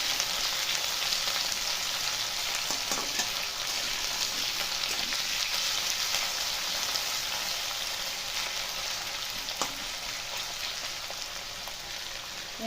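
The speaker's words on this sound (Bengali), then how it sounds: "আলুগুলো একটু হাই ফ্লেমে আমি একটু অল্প করে ভেজে নেবো আগে।" Potatoes frying on a high flame, a dense, even crackle of hot oil that carries on without a break, close and moderately loud, with a few faint clicks.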